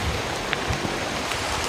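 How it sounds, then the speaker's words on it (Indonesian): Heavy rain falls in a dense, continuous wash of hiss with scattered drops pattering nearby, steady and loud throughout the short stretch. "Masalahnya udah benar-benar hujan."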